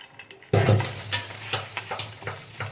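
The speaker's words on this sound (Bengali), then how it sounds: "কাজু বাদামটাকেও একটু ড্রাই রোস্ট করে নিতে হবে" Cashew nuts dry roasting in a pan over a low flame, with a sudden start and then light irregular rattles and scrapes as they are stirred, near and fairly soft.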